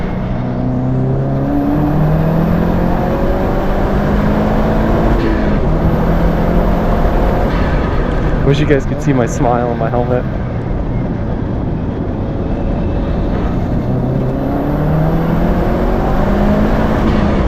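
A Subaru GC8 STI racing on a short track revs hard through repeated rising and falling gear-shift sweeps, loud and close, with wind noise and a driver talking over the engine.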